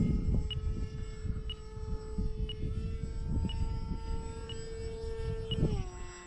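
HobbyZone AeroScout RC plane taking off from grass, its small electric motor whining as a steady high tone that rises and shifts near the end, with wind buffeting the microphone.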